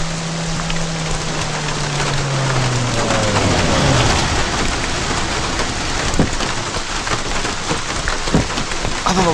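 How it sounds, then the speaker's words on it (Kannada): Heavy rain pours down steadily across the whole stretch, a dense loud hiss on surfaces with scattered drops and a low rumble of thunder early on, no voices. "ಏನೋ ಮಳೆ ಹಿಂಗಿಡ್ಕೊಬಿಡ್ತು."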